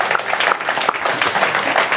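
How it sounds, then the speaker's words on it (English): Audience applause at a tech talk-show event, a dense, even burst of clapping from the room with a little voice mixed in. "Please have a seat and warm applause for Astrid"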